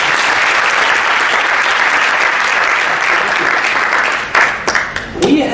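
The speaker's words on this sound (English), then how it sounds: "So give him another round of applause." An audience at a tennis event opening ceremony gives a sustained round of applause, loud and dense clapping from a large crowd that thins near the end as a few voices come through.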